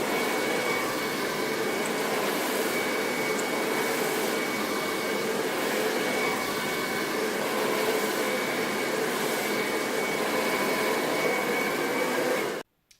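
Hand-held hair dryer blowing on hair during a salon-style blow-dry, a loud steady whooshing roar that runs constantly and then cuts off abruptly at the very end; no voices.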